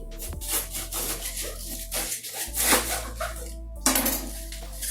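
A knife works through a head of cabbage on a board while making sauerkraut, giving close, irregular knocks and scraping cuts with loose handling clatter over about five seconds, with no voices.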